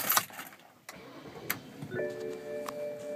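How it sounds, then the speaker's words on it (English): A BMW X5 engine cranks and catches with a brief burst of sound, followed by clicks and electronic chimes as the car powers up, heard close from inside the cabin. "We'll start up the car."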